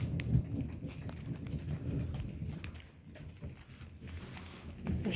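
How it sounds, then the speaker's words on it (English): A thunderstorm in a garden, rain pattering steadily with low rumbling thunder rolling beneath it, swelling and easing across the stretch. "Is it raining, Luce, and thunder? God, you can hear it"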